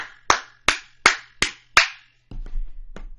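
A stream donation alert plays a clapping sound effect: five crisp, evenly spaced hand claps ringing close and clear, followed by a low rumble and a few faint scattered taps.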